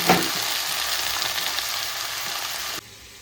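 Chopped kantola (spiny gourd) goes into hot oil with spices in a pan and bursts into a loud, close, hissing sizzle that holds steady before cutting off abruptly.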